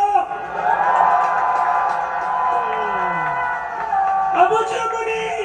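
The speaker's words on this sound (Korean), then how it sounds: "감사의 뜻으로 뜨거운 박수 한번" A crowd at a Korean gathering cheers and shouts, with sustained voiced calls and whoops over a busy background. A fresh burst of cheering rises near the end.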